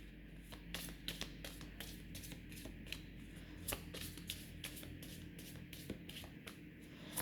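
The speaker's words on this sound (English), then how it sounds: "first shuffle them and then clear the cards." Rapid riffling flutters of playing cards being shuffled, several quick bursts of papery snaps in an uneven rhythm, close and fairly quiet.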